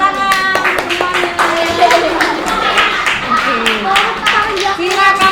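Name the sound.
group of students clapping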